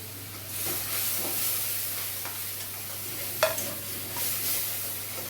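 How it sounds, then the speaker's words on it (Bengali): Ground spices and tomato purée cook in a pan for a Bengali chal kumro dalna, giving a soft steady sizzle with occasional scraping stirs and one sharper clink of the spoon. "দু 3 মিনিট একটু ভালো করে গুঁড়ো মশলাগুলো কষিয়ে নিয়ে দিয়ে দিচ্ছি কাজু পেস্ট।"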